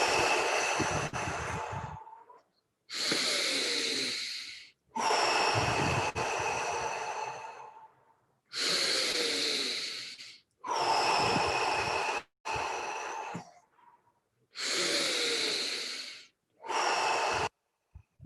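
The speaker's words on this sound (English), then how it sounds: "Let's take 5 more deep breaths" Deep, loud breaths during a guided breathing exercise, eight long inhale-exhale rushes of air close to the microphone, each separated by short silent pauses, with no speech.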